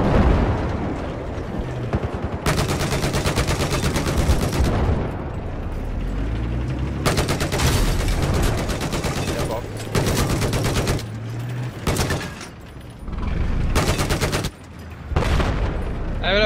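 Rapid bursts of automatic gunfire in Battlefield 4 on the Operation Dawnbreaker map in Conquest mode, loud and close, with repeated volleys separated by brief pauses.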